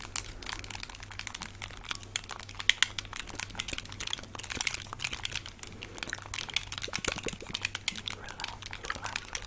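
Clicky buttons on a game controller, rapid scattered plastic clicks and crinkly taps close to the microphone, quiet and steady throughout with no talking.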